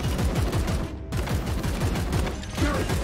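Rapid bursts of video-game gunfire from Warhammer 40,000: Chaos Gate – Daemonhunters, loud and dense volleys in quick succession filling the whole stretch with one brief gap.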